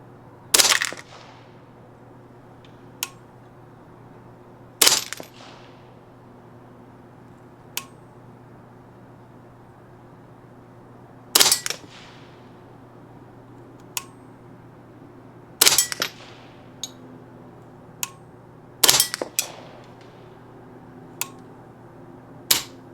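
Ruger 10/22 rifle firing SK match rimfire ammunition at a target for a group, about six sharp separate shots spaced several seconds apart, close and loud, with faint clicks between.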